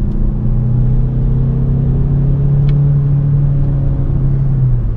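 A 2013 Peugeot 508 Hybrid with a 200 hp powertrain and robotized gearbox accelerates, its loud steady engine drone sliding through gear changes with brief pauses between them, heard from inside the car.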